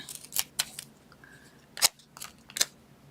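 Several sharp snips of scissors cutting cardstock, close and crisp, spaced irregularly with brief quiet gaps between the cuts.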